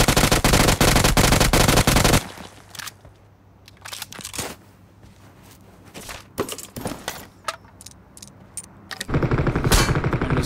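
Rapid bursts of PUBG Mobile gunfire crackle loudly at the start and end, with scattered single shots and footstep-like crunches in a quieter stretch between.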